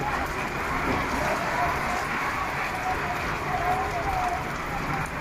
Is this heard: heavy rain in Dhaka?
yes